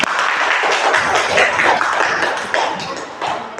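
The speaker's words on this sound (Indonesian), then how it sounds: "Udah, tepuk tangan semua untuk kita." A classroom of children claps together during a computational thinking lesson, a dense and close burst of applause that holds steady for several seconds before thinning slightly.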